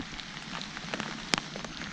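Rain falls steadily during a snakehead fishing outing, making a faint, dense patter with a few sharper nearby drops striking a surface.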